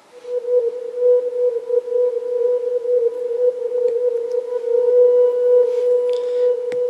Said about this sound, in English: atmospheric-y, spooky kind of synth